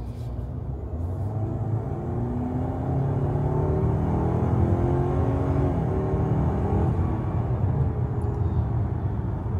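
A 2025 Buick Envision Avenir AWD accelerating in sport mode, a steady muffled engine and road rumble heard from inside the cabin, rising gently in pitch, with no voices.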